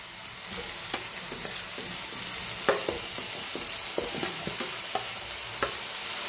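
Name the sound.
capsicum added to sizzling sautéed onions in a pan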